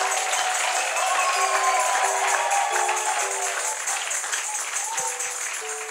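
A church congregation applauds and cheers loudly in a steady, dense wash of clapping that holds for several seconds, while a few sustained musical tones sound underneath.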